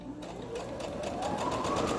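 Sewing machine stitching ribbon trim onto a fluffy tutu, a steady close whirring that speeds up and grows louder over two seconds, with no talk.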